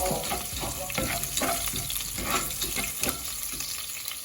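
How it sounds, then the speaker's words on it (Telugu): Chopped green chillies frying in a pan, a steady close sizzle with occasional stirring strokes and crackles throughout. "ముందుగా కట్ చేసుకున్న మిర్చి కూడా వేసుకొని కాసేపు వేయించుకున్నాం"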